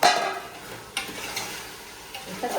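Prawns cooking in a masala of curd, chilli and coriander powder are stirred in a pan, giving a soft sizzle with scraping strokes near the start, around one second and near the end.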